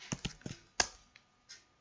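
Several crisp computer keyboard keystrokes tapped in a short irregular burst while entering a search, close and fairly quiet, with a slightly louder key press midway and no talking.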